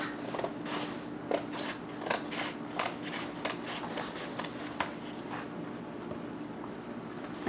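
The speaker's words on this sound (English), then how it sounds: "I'm going to take my scissors and I'm going to cut along" Scissors snip through paper along a folded line for a toilet paper roll mermaid craft, a series of close, crisp cuts spaced through the stretch over a faint steady hum.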